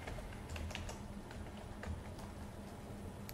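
Quiet, rapid keystrokes on a computer keyboard as a terminal command is typed, a run of light clicks with a few sharper taps, close and alone.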